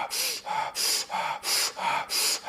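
Fire breathing during a guided breathwork meditation: four rapid, forceful breaths, each a sharp rushing gasp of air in a steady pulse, close and loud with no talk.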